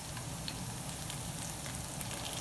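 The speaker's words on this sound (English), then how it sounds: "just give them a quick warm up in a frying pan" Pierogies sizzling in a frying pan while being warmed up, a steady, even crackle of hot oil that holds close and constant throughout with no voices over it.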